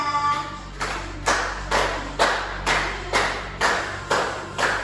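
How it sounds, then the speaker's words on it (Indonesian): A class of schoolchildren claps together in a steady, evenly spaced rhythm, about nine sharp group claps in the room before singing a national song, fairly loud and close, with no talking. "Tepuk tangan ya."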